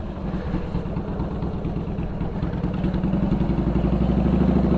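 A Harley FXSTI Softail motorcycle engine runs steadily with a throaty, clattering rumble as the clutch is pulled in for a shift, its loud even drone rising slightly toward the end.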